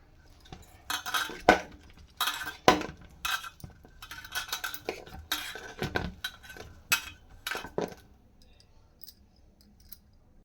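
Leftover rice gets mixed with chili powder and turmeric in a bowl, giving repeated scraping clinks of a utensil against the dish in uneven bursts, close and moderately loud before trailing off.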